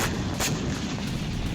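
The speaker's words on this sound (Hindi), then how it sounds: "रात के वक्त इजरायली फाइटर जेट्स ने बम गिराए, जिसके बाद जबरदस्त धमाका हुआ।" A bomb dropped by an Israeli fighter jet explodes at night in the town of Eta al-Shaab, Lebanon, producing a sustained, heavy rumbling roar that fills the whole moment with no pause.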